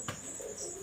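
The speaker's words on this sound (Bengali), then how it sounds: "চীনা টেডের নর, 128-এর ফিমেল, এইভাবে জোড়া রয়েছে।" A pair of Chinese teddy pigeons, male and female, coo faintly under a steady high electronic whine and low room noise, with one short soft burst near the start.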